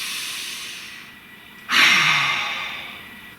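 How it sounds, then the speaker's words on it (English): A single deep breath drawn in and let out after a short pause, close and clear against quiet room tone, rising suddenly and easing away slowly. "Nice deep breath."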